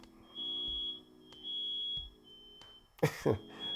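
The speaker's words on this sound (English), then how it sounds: "We have a really sensitive fire alarm." Three evenly spaced, high-pitched electronic beeps from an oversensitive household smoke alarm going off with no fire, each about half a second, followed by a short burst of louder sound at the end.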